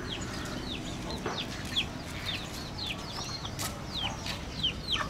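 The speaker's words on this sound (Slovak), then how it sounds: "Kohuti." Roosters and chickens near the Killing Fields in Phnom Penh, Cambodia, give repeated short chirping clucks over a steady outdoor background hum, moderately close, with no talking.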